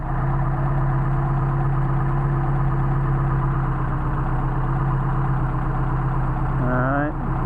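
A Mercedes 190SL engine idles steadily on its Solex carburetors, a continuous close, loud drone with a low hum that holds level throughout, with a brief rising whine near the end.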